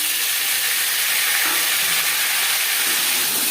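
Potatoes hitting hot oil tempered with five-spice (panch phoron) for a Bengali bata fish curry, giving a loud, steady, continuous sizzle and hiss throughout, close up with no voices.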